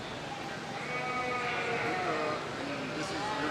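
A goat bleats at a 4-H and FFA county fair livestock show, a wavering cry rising over crowd murmur and nearby talking.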